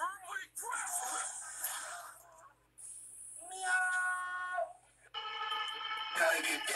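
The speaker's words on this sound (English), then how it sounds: "Meow." A cat meows several times in drawn-out, tonal cries separated by short gaps, heard up close.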